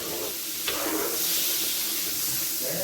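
Butter melting on a griddle heated to about 325 degrees before hash browns go on, a soft steady hiss and sizzle with faint background noise throughout.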